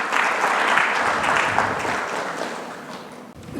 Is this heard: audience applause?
yes